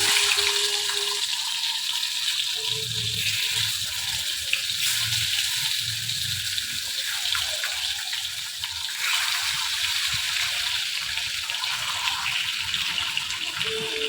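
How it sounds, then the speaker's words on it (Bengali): Potatoes frying in a generous amount of oil in a wok, giving a steady, continuous sizzle with a bright hiss that holds at an even level throughout, close by, with no voices. "কড়াইতে অনেকটা তেল বসিয়ে দিলাম আর আলুগুলো আগে ভেজে নিই"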